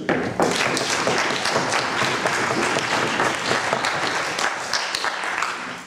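Sustained applause from a large audience at a German debating championship semifinal in Berlin, dense steady clapping filling the whole stretch and easing slightly at the very end.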